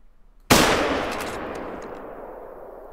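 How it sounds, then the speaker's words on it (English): A single loud rifle shot fired at a female reindeer while hunting in theHunter: Call of the Wild, a sharp close crack that rings out and decays slowly over about two seconds, with no talk. "We might actually try and take a shot on her as well."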